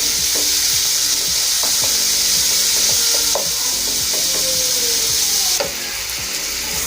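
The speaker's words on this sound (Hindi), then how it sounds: "अब इसमें मैं चिकन ऐड करूंगी। इसी तरह फ्राई करना है।" Chicken pieces frying in ghee, giving a loud, continuous hiss and sizzle close up, with faint utensil knocks and scrapes from stirring throughout.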